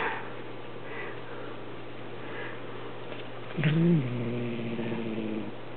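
A cat lets out a short, low growling yowl partway through, over quiet background hum.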